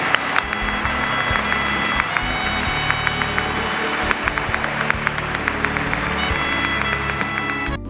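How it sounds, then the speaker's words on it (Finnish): Sustained loud applause from a large audience greets Master Suma Qinghai at a gathering in Finland, a dense continuous roar of clapping with musical tones running beneath it throughout. "Suuret aplodit tälle maailman naiselle."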